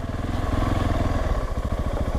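A KTM 690 SMCR single-cylinder motorcycle pulses steadily and loudly while riding, its engine throbbing in a continuous mid-range rhythm close up, with no voices over it.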